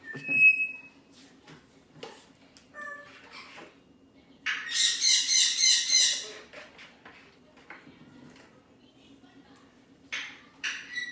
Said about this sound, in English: And the birds are going off.